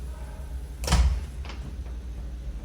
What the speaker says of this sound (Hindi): दरवाजा नॉक होने की आवाज आई।